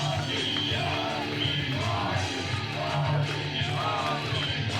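Crowd at a women's triple threat wrestling match yelling and whooping, a loud, continuous roar with rising individual shouts over a low droning hum, no clear talk on top.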